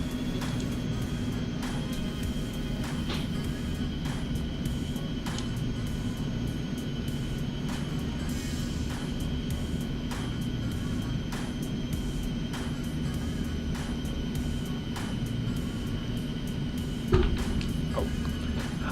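An Eclipse 550 jet taxis to parking in the X-Plane 11 flight simulator, giving a steady engine whine and low rumble that holds throughout, with faint clicks and a small thump near the end.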